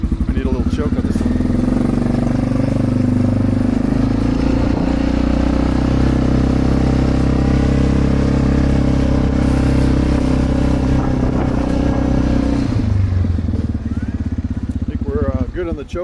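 A small engine, likely a chainsaw, runs steadily on choke at close range, a loud continuous drone that drops in pitch near the end with a short clatter as it is handled.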